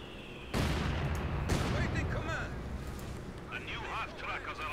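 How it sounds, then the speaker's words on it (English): Mortar fire in the World War II strategy game Company of Heroes 2: two sharp, loud blasts in quick succession, then rumbling debris and battle noise, with someone talking over it. "They're mortaring, look out,"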